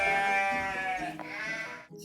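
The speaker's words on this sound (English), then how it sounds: "G for goat." A single drawn-out goat bleat, wavering and nasal, sounds close and clear before cutting off near the end.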